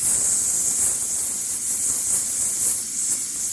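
A pressure cooker cooking mutton lets off a loud continuous steam hiss, high and sustained without a break, with a faint low rumble beneath it.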